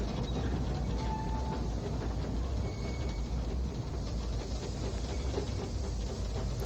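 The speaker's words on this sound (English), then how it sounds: "you get a good view here of the two locomotives on front working our train" Train hauled by two GP39 locomotives climbing a steep curved line, a steady loud rumble of engines and rolling wagons with faint wheel clatter throughout, no voices.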